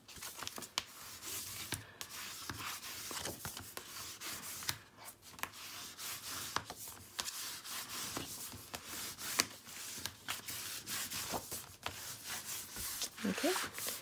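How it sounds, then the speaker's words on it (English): A burnishing tool rubs down scrapbook mini album pages with 8x8 pocket pages, making repeated short, scratchy rubbing strokes at close range and fairly faint, in an uneven rhythm. "Let's go through and burnish everything down."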